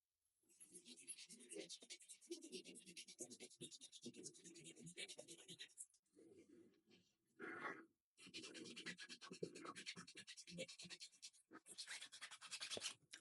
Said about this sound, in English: I think this is made for filing down metal, not PVC plastic